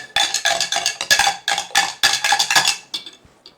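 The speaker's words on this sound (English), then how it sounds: "Gonna stir 1 second." A spoon stirs tea in a cup, giving bright, rapid clinks against the sides in quick bursts of scraping taps that thin out at the end, close and fairly loud with no talk.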